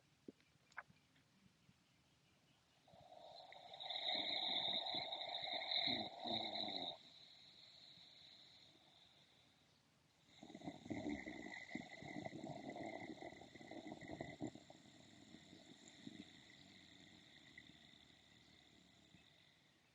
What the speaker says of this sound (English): So there's a gentle snoring sound as you bring tone to the throat.